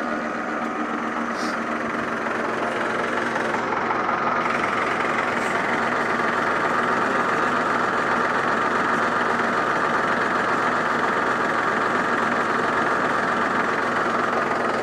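A Mahindra 575 tractor engine idles low and steady, a constant rumbling drone with an even, unchanging rhythm for the whole stretch.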